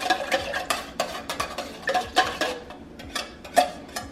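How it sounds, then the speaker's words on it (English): Leftover water is stirred in an emptied cream of mushroom soup can, making a rapid series of close, bright metallic scrapes and taps against the can walls, with no voice over it. "I'm going to put the little water in there, and we're just going to stir this up"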